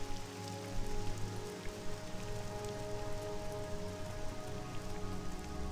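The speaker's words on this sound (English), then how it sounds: "And it looks like the rain's about to let up as well." Steady rain falls in the game Morrowind, a dense continuous hiss of drops pattering on surfaces without a break, heard alone at an even moderate level.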